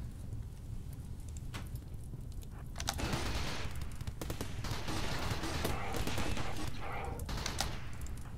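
Bursts of gunfire in the colony-building game Rimworld during a crashed-ship fight, rapid shots clustering in the middle with steady background hum and no voices.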